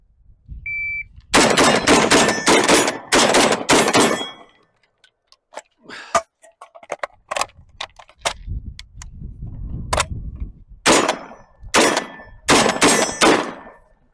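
Gunshots from a GForce GF99DLX shotgun during a timed shooting run: loud close bursts of rapid shots, a pause filled with clicks and metallic handling during a reload, then more quick shots.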